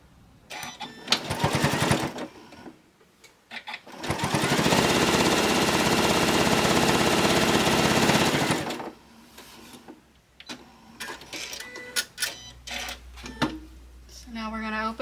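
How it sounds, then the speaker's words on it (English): Sewing machine stitching flannel squares back to back for a rag quilt, with a loud, steady run of about four seconds in the middle, framed by bursts of rapid clatter, fabric handling and some talking. "You're going to sew back sides together. I'm using a 1/2 inch seam allowance."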